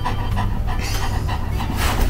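A large golden retriever pants close to the microphone, with quick, rhythmic, breathy huffs repeating steadily and loudly with no other sound.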